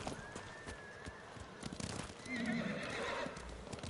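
A horse in the video game Ghost of Tsushima neighs loudly in the middle of the clip, a rising whinny over clip-clop hoofbeats and game ambience, with no talk over it.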